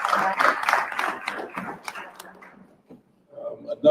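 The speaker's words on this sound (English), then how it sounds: "ask everybody to give a round of applause to the employees for the village" Applause for village employees at a municipal board meeting in Dolton, a loud burst of clapping mixed with voices that thins out over a few seconds and fades to near quiet.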